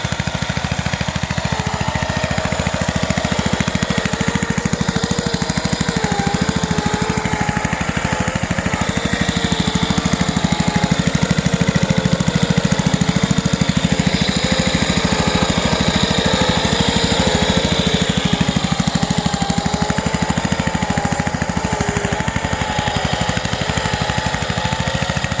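The small engine of a homemade wooden RC car runs continuously as the car rolls through a ditch. It makes a loud, raspy buzzing drone with no pauses, close up and with no voices over it.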